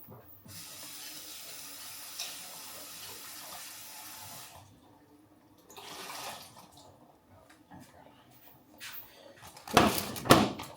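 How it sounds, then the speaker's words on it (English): Running tap water pours over green beans being washed in a kitchen sink, flowing steadily for several seconds, pausing, then resuming with louder splashing and clatter near the end. "I'm just going to give them a bit of a wash actually."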